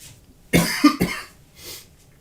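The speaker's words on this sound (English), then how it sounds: "I'm coming over a cold, so expect the odd cough tonight." A person with a cold gives a pair of sharp close coughs, followed by a fainter breathy exhale, in an otherwise quiet room.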